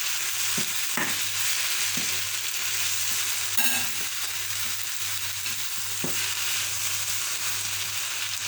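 Saltfish frying in a pan for ackee and saltfish, a steady broadband sizzle holding throughout with a few soft clinks and bumps, close and alone with no talk.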